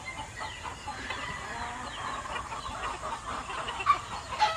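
Soft, scattered clucking from a fighting rooster over a steady outdoor background, with a couple of sharper peeps near the end.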